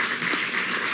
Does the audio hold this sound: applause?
yes